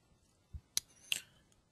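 A few crisp, close mouse clicks on a computer in a quiet room, two sharp ticks about a third of a second apart after a soft low thump.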